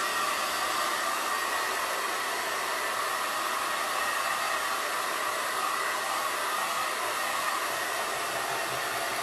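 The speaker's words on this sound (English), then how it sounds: "I'm blow drying" A hair dryer blows steadily and loudly at close range, a constant broadband whoosh that runs unbroken for the whole stretch, drying a handmade sloth-shaped pillow.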